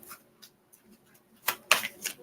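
Tarot cards are shuffled in a few short, crisp riffling bursts close by, with quiet pauses between them.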